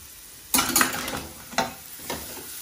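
Seasoned mushrooms sear in a hot pan with a crackling sizzle, broken up by a few clattering stirs or tosses.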